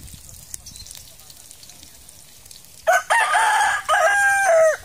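A rooster crows loudly and close by at an outdoor Filipino home kitchen, two long strained calls following a quiet stretch of low background noise and faint voices.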